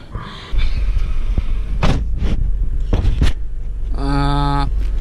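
A restored Honda car rolls on its first drive, with a low engine rumble under a few scraping, creaking bursts and a short whirring tone near the end, close and fairly loud.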